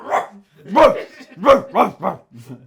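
A man imitates a dog, giving a series of about five gruff, bark-like yelps close up, the last few in quick succession.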